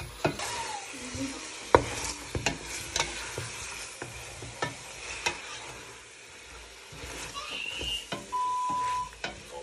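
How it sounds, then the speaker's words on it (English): Ginger and garlic fry in a sufuria for Kenyan pilau, a quiet continuous sizzle broken by repeated clicks and scrapes of a spoon stirring against the metal pot, with one short beep near the end. "let the ginger cook well and the garlic"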